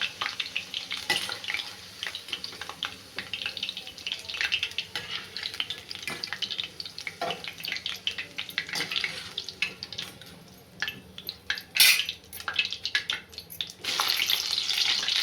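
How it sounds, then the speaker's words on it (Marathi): Onion frying in a pan after potatoes were removed, with intermittent sizzling and repeated scraping and stirring strokes, close and uneven in loudness, with occasional louder clatters. "आपण याच्यात कांदा फ्राय करून घेऊया"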